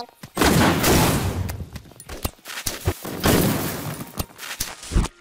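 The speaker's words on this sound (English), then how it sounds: "Hey, they're shooting me now." Gunfire aimed at the player in Postal 2: a run of sharp, loud shots, mostly in quick bursts with short gaps between them, up close and dense, with no talking over them.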